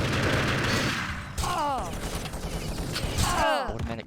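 Automatic gunfire from a competitive multiplayer shooter match, played with mouse controls, rattling in dense loud bursts with rapid ricochet-like whines, while a voice talks over the action.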